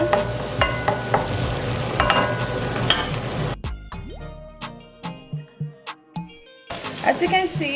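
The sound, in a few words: shrimp curry frying and being stirred in a pan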